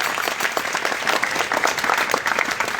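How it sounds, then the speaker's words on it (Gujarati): A crowd at a Bhagwat Katha gathering gives organisers sustained, dense applause, loud and steady throughout. "તો જોરદાર તાળીઓના સ્વાગતથી એમને વધાવી લઈએ."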